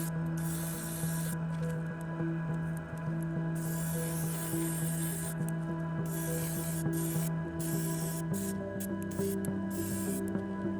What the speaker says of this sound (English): So I'm laying down the first, what I call a dusted coat, just to lay down little beads of the stuff.